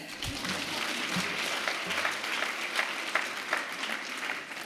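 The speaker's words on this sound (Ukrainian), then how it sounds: "Можна аплодувати" Audience applause at the Ukrainian Women's Congress, a large hall clapping steadily at moderate level with a few low thuds near the start.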